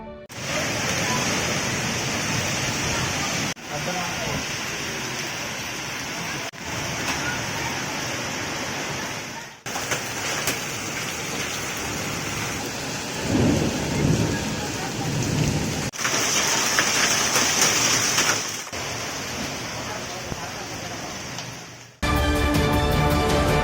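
Heavy rain pours down continuously at a railway station in Giridih, India, a loud, dense roar, broken into segments by abrupt cuts, with a distant rumble in the middle.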